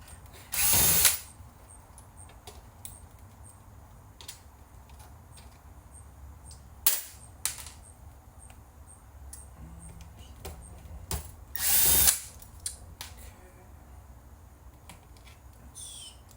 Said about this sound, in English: I'll just remove all the screws I see.